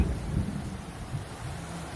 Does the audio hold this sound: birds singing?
no